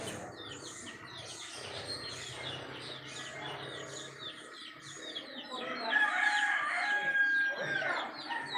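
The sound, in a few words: rooster crowing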